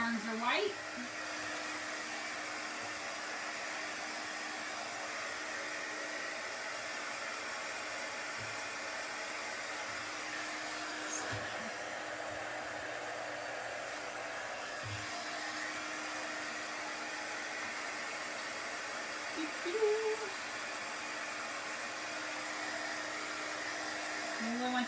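A hair dryer blows continuously at close range to dry chalk craft paint before sanding, a steady whooshing hum that holds for the whole stretch with only small bumps and no pauses.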